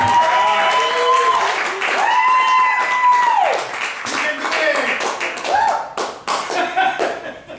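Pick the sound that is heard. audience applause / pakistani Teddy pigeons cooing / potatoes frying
audience applause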